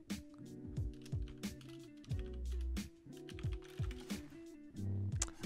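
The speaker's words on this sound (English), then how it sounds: "This guy is typing a lot." Rapid keyboard typing in the background of a ranked Paladins solo qualifier match, light clicking keystrokes under steady game sounds and music.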